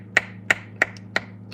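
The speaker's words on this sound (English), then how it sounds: "Snapping your fingers happens so fast." Five crisp finger snaps spaced evenly about a third of a second apart, close and sharp, each a short bright crack over a faint low background hum.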